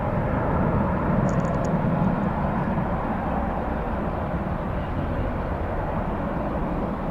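Jet airliners take off at Dallas Fort Worth Airport, giving a steady, loud, broad engine roar that holds without a break throughout, heard from a distance with no talking.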